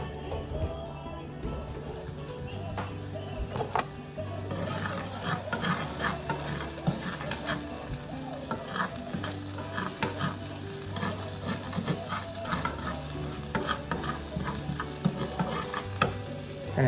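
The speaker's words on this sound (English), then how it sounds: "I'm going to use a meat masher to mash my beans." Beans being mashed with a meat masher in a pan over low heat for a Belizean breakfast, soft repeated pressing and scraping strokes over a gentle sizzle, close and moderately quiet.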